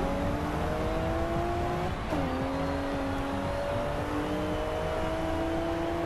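A car engine revs in Forza Horizon 2 with a loud, steady drone. The pitch climbs, drops sharply at a gear change around two seconds, then rises again.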